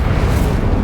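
A fiery Incendio spell burst in Hogwarts Legacy, a short loud whooshing boom that fills the whole moment with dense low rumble and no voices.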